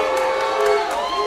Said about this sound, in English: And hear the crowd going crazy.